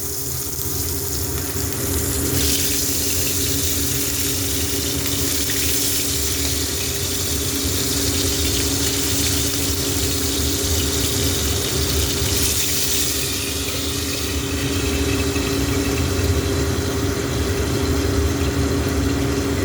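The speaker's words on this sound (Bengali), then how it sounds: "তো আপাতত কড়াইতে তেল গরম বসিয়ে দিয়েছি। প্রথমে ট্যাংরা মাছগুলোকে ভেজে তুলে নেব।" Tangra fish frying in hot oil in a wok, a steady, loud, hissing sizzle that runs continuously with a faint underlying hum and no talking.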